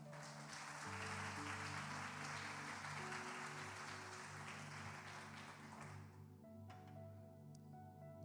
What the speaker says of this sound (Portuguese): Se você acredita nisso, aplauda o nome do Senhor.